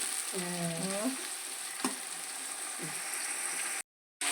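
Tomatoes go into a hot frying pan for Thiruthuraipoondi biryani, raising a steady sizzle with a few scraping stirs and clanks, fairly quiet, then a brief cut to silence near the end.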